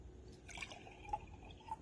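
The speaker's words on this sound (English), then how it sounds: "I'm going to add cold water to this" Cold water trickles into a container for homemade butter, a faint, quiet pour with a few soft drips and gurgles and no talk.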